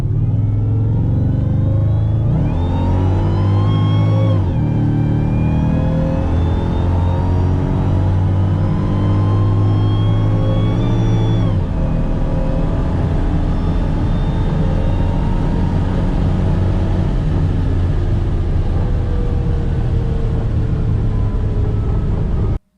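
Modified Mercedes SL55 AMG accelerating hard on a 60-130 mph pull in Mexico, a loud continuous engine roar with rising pitch sweeps broken by gear shifts, heard from inside the car with no talking.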